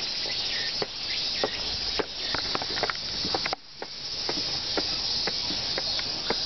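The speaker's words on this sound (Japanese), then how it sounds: "まだセミが鳴いてる。" Cicadas sing in a steady high-pitched drone on a clear autumn day at Meguro Fudo temple in Tokyo, Japan, continuous and fairly close, with faint brief clicks and ticks scattered through it and no talking.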